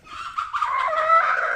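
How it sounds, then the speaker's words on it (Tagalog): A chicken clucks and squawks close by, a short continuous burst of fowl calls with no talking. "yun yung manok natin mga kabady"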